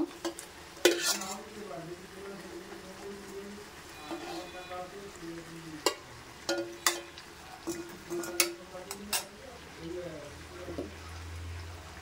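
Chicken pieces fry with turmeric in a pan, a quiet steady sizzle broken by repeated scraping and clacking of a spoon stirring against the metal, with occasional soft talk nearby.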